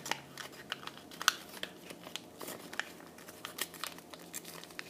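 A paper flap folded and its crease reversed for an origami lucky box, giving soft close crinkles and light papery rustles, quiet and irregular.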